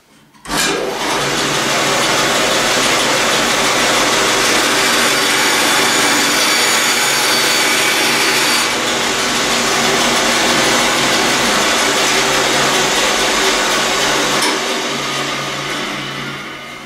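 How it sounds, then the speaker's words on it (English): A power saw with a coarse blade rips through a mahogany hardwood board in a shop, one loud, sustained roaring whine that starts abruptly and runs steadily for most of the time before easing slightly at the end. "Fairly clean cut for as coarse of a blade that is, but it ripped right through it."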